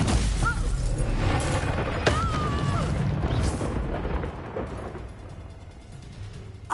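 A Confringo fire-blast spell explodes in Hogwarts Legacy, with a sharp blast followed by rumbling booms and crackling debris, then fading into quieter ambience with a brief thump at the end.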